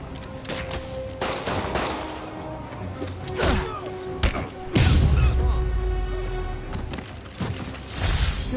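A video game shootout in a Spider-Man game, with dense rapid gunfire, bangs and crashing impacts, and a heavy thud midway, loud and chaotic throughout.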